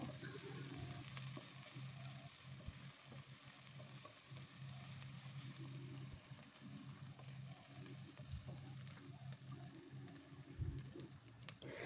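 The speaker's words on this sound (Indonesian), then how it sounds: "lanjut tumis bawang putih dan bawang merah yang sudah kita cincang" Minced garlic and shallots sizzle steadily in a hot pan, a constant crackling fry with occasional scrapes and stirs of a utensil, close and continuous.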